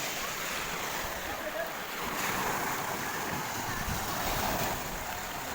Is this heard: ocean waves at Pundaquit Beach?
yes